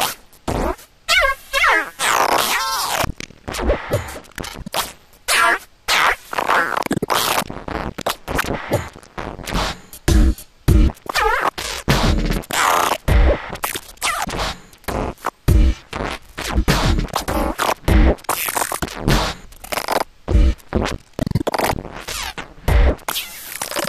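A looped sample mangled live by a granular synthesis plugin under modulation wheel control, giving loud, choppy, stuttering bursts of grainy scraping texture that cut in and out rapidly for the whole stretch.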